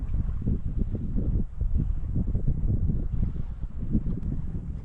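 Wind on Lake Baikal buffets the microphone in steady, low rumbling gusts, with faint background noise and no voices.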